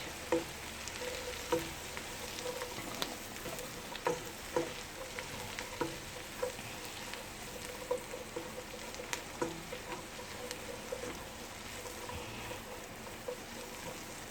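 Cabbage and country sausage fry in a hot pan, a steady low sizzle broken by regular clacks and scrapes as the food is tossed and stirred, close and moderately quiet with no talking.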